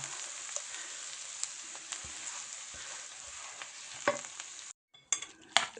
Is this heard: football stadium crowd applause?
no